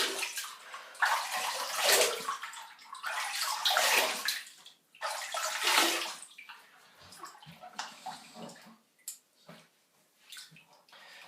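Running water from a tap rinsing a razor during shaving with an Ikon Shave Craft 101 razor, a steady hissing splash that swells and fades in several surges, then gives way to short separate splashes and drips.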